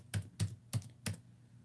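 Four quick, evenly spaced keystrokes tap on a computer keyboard in a quiet room, crisp and close with near silence between them.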